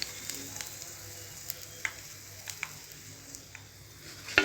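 Stuffed chilli bajji deep frying in oil, a low continuous hiss of bubbling oil with scattered faint pops and a sharper clatter near the end.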